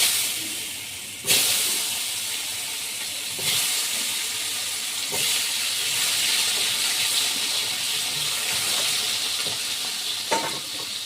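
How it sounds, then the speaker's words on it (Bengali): Cut potatoes hiss and sizzle in hot oil with cumin, dried red chilli and bay leaf for a katla fish curry, a loud steady frying roar with a few sharp bursts as pieces drop in, no talk. "এবার আমি এই যে কেটে রাখা আলুটা দিয়ে দিচ্ছি"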